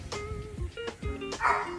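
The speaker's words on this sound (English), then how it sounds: "You hear my dog in the background." A dog barks in the background of a kitchen, giving a few short yips and whimpering barks in quick succession, moderately loud and alone.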